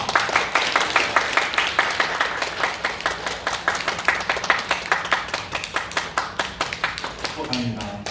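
A church congregation at a Korean Baptist Sunday service claps together in a steady, rhythmic beat for several seconds, with a voice speaking faintly under the applause near the end.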